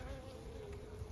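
Honey bees inside a hive of a captured swarm, opened for a first inspection, produce a steady close buzzing drone throughout with no pauses.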